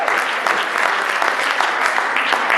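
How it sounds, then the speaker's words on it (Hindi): Steady, dense applause from an audience at a community celebration in a civic centre, honouring a young musician who plays drums and guitar; close and continuous throughout. "ठुको ताली इस बच्चे वास्ते देने के पिताजी."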